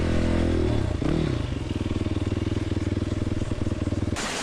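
A motorcycle engine on a riverbed crossing idles unevenly, then drops into a rhythmic, sputtering chug that pulses for several seconds before cutting off into a brief rough scrape, close and fairly loud.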